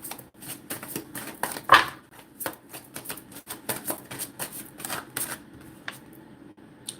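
A deck of tarot cards being shuffled close up, with rapid, irregular riffles and flicks and one sharper snap, heard alone.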